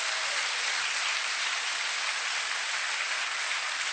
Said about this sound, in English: Please, a round of applause for these good folks.